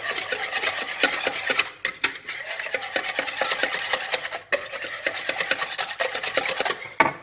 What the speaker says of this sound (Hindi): और इसको मिक्स करेंगे अच्छी तरह।